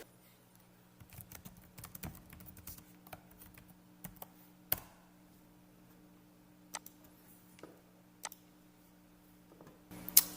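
Someone types a web search on a computer keyboard, with sparse, quiet clicks and short bursts of keystrokes close by. There is a faint steady hum behind the typing.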